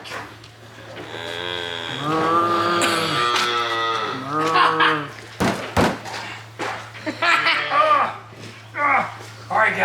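Cows moo repeatedly and loudly at a dairy farm in Williamsville, Virginia, long drawn-out calls overlapping one another, with a couple of sharp knocks from farm equipment and a steady background hum.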